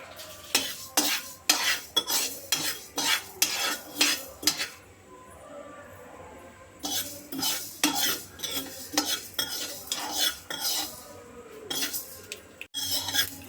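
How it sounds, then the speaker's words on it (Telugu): Mustard and fenugreek seeds dry-roast in a pan at a village cooking setup, with a spoon scraping and stirring in a quick repeated rhythm of loud, close metallic strokes and a brief pause midway. "ఆవాలు మెంతులు అయితే ఎగిపోయినాయండి"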